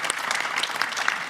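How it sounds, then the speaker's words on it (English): Conference audience applauding panelists at the close of a panel discussion, a steady, dense patter of many hands clapping at moderate loudness with no talk over it. "I invite the audience to give a round of applause for these panelists."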